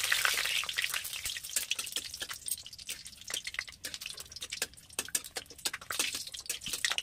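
Whole garam masala spices, dried red chillies and bay leaves crackle and sizzle in hot oil for goat curry, with dense, irregular popping and spitting throughout, fairly close and steady, with no voices.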